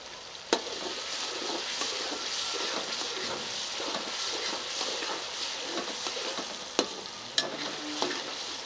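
Finely chopped green chilies stirred into fish karahi frying in a pan, a steady close sizzle with a few sharp clinks of the spoon against the pan, no voices.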